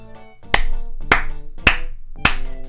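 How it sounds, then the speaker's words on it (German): Four sharp, loud claps land at an even pace over a soft musical background. "Applaus!"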